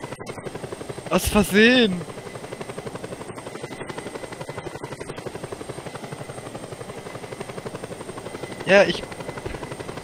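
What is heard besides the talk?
helicopter in Just Cause 2 video game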